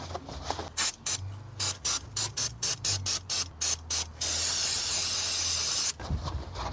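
Spray cleaner bursts from a strong nozzle onto the rear brake calipers of a Land Rover Range Rover L322. A rapid series of short hissing puffs is followed by one long, loud, continuous spray.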